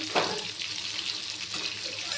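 Katla fish frying in a pan at home, a steady close sizzle and hiss with a brief louder crackle at the start.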